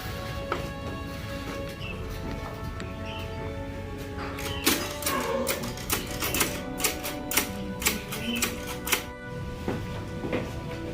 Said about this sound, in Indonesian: Suti, tolong kau ketik naskah ini.